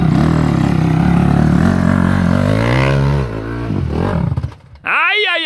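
A trail motorcycle engine strains climbing a ramp, revving hard and bogging down before cutting out, followed by a short voiced exclamation near the end.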